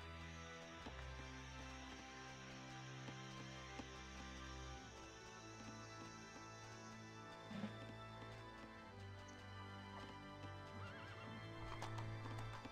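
Horses whinny and neigh over a bed of steady game music, with occasional hoof clip-clops, all fairly faint and without talking.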